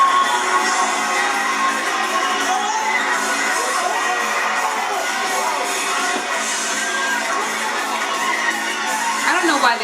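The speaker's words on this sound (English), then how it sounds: "What's even more awful is watching the audience cheer as he dies." An audience at a sporting event cheers and shouts continuously in a dense, distant-sounding roar, with a few higher yells rising out of the crowd.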